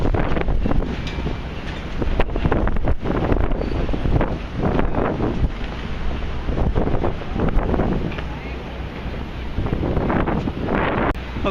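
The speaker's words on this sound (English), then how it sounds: "It would be a real help if the wind were to stop blowing." Strong wind buffeting an outdoors microphone near the One World Trade Center construction site, loud rumbling gusts that rise and fall continuously through the whole stretch.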